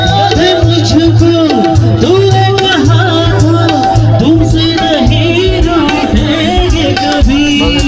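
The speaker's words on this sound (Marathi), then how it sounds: "तो गाण्याचा कॉन्सर्ट पाहायला पण गर्दी आहे." A large crowd gathers at an outdoor song concert, with loud, continuous babble of many voices mixed with amplified singing and music nearby, without pause.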